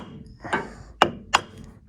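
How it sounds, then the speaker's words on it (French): A hammer taps a solid beech stair tread to mark dowel positions, giving a soft knock followed by two sharper, ringing strikes in quick succession, close and clear with no talk. "Un petit coup de marteau"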